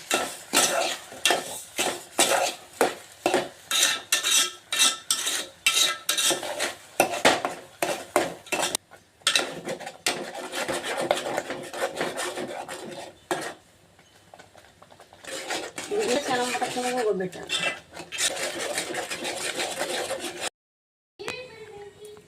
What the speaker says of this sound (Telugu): బాగా కలబెట్టుకోవాలండి